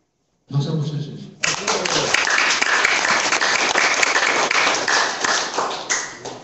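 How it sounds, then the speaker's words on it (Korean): Audience applause in a Korean seminar or sales presentation hall, starting with a brief smattering and then swelling into sustained, dense clapping from a sizeable crowd before tapering at the end. "박수 한번 쳐주세요."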